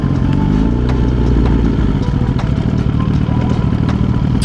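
Motorcycle engine idling close by, a loud steady low chug with light mechanical clatter throughout, no talking.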